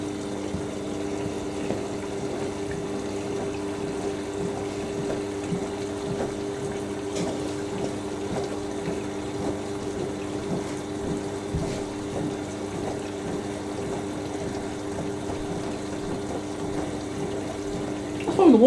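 A Siemens WH54080/07 Extraklasse XL 1000 washing machine fills with hot water from its plumbed-in supply, a steady rushing hiss with a low constant hum running unbroken throughout, ending with a brief louder knock.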